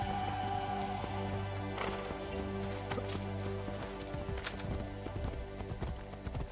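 A horse in the Assassin's Creed Brotherhood game gallops with a steady clip-clop of hooves, joined by a brief neigh near the start, over continuous game music and ambience, fairly close and loud.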